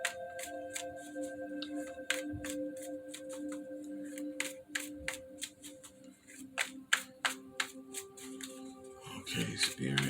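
Tarot cards are shuffled by hand in quick, crisp riffles and slaps, a close, fairly quiet run of sharp clicks and flutters, with a soft tonal hum running underneath.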